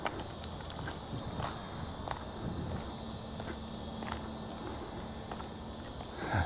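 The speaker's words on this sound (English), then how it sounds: "Oh, those crickets, eh, that one." A steady, high insect trill runs throughout, like crickets chirping in the background in Miżieb Woodland, Malta, with scattered soft footstep-like taps and rustles nearby.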